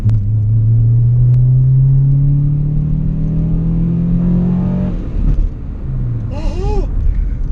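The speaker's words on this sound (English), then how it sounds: "I'm still trying to find a road that I can try and listen to VTEC kicking" A 1998 Honda Accord Euro R with a manual gearbox revs hard under load, its engine note climbing steadily and loudly for about five seconds before dropping away, then settling into a lower hum as a voice speaks briefly.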